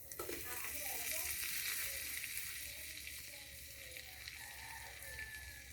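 Flour cooks in melted butter in a pan, giving a soft, steady sizzle that stays faint throughout, with a quiet voice in the background.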